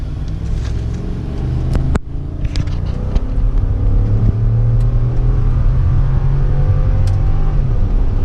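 A 2004 Chevy Duramax turbo diesel pickup accelerating, deep rumbling engine note climbing in pitch as it pulls through the gears, loud and close from the cab, with a few sharp clicks and no speech.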